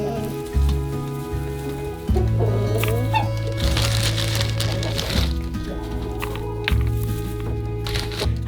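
Backyard chickens cluck and murmur close by near a coop, with scattered tapping and rustling underneath and no talking.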